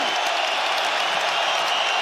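A capacity arena crowd in Perth, Western Australia, gives a standing ovation after a five-round UFC 284 title fight between Islam Makhachev and Alexander Volkanovski, a dense, loud, steady roar of applause and cheering with a commentator talking over it.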